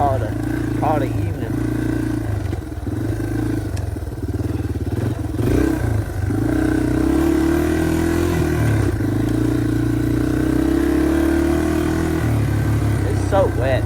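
A dirt bike runs laps on wet, slippery ground after rain, its mid-pitched engine buzzing and revving steadily through the whole stretch, near and fairly loud, with clattering from the chassis and no talking.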